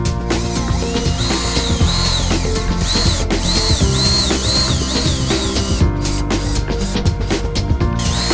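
Power drill driving screws into log siding on a house, loud and close, with a whine that rises and falls over repeated short bursts.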